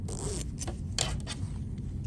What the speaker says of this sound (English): I'm going to go ahead and move my zippers down a wee bit here, or my zipper heads down